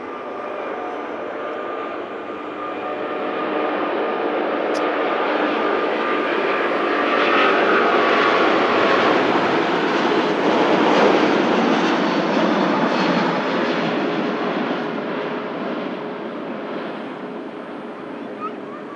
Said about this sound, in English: Emirates A380, the king of the skies, heading off to Dubai.